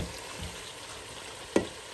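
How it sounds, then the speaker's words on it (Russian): Onions sizzle and crackle steadily in a hot pan, a soft continuous frying hiss with one brief clink near the end. "Жарится лук у нее"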